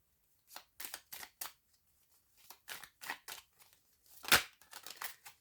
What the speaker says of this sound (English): I pre-shuffled these cards before I started the video, but I'm just shuffling a little bit more